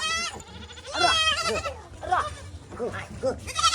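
A goat bleats repeatedly, a string of wavering, nasal cries close by, with people talking throughout and partly overlapping the calls.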